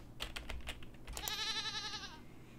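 In the horror video game Hello Puppets Midnight Show, a few quick clicks lead into a single wavering sheep bleat lasting about a second, faint and eerie over a quiet background.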